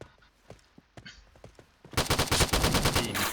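An Ultimax machine gun fires in the Point Blank video game. Scattered single gunshots and clicks come first, then a loud, rapid sustained burst of automatic fire fills the second half.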